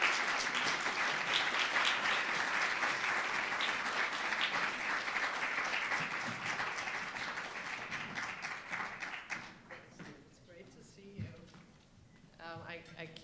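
Conference audience at a law women summit applauding a keynote speaker, dense sustained clapping that tapers off and thins into scattered claps and faint voices.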